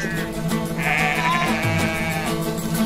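Goats bleat loudly and almost without pause over a steady busy background, several voices overlapping in a wavering, nasal chorus.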